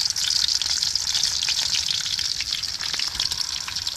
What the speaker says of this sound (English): Oil is nice and hot. I'm going to go ahead and put these in.